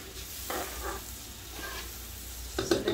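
Pot of Guyanese-style fish stew bubbling and sizzling on the stove. Soft, steady simmer with brief stirring scrapes near the end, fairly quiet and close, no talking.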